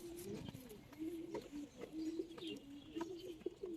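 Old-breed Giribaz pigeons coo in a loft, soft rolling calls repeating in close succession near the listener, with faint murmuring voices in the background.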